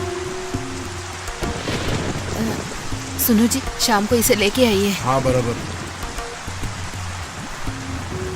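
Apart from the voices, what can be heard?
heavy rain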